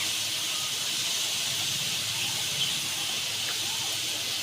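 Dried red chillies hit hot oil and give off a steady, bright sizzle and hiss that stays even and close throughout.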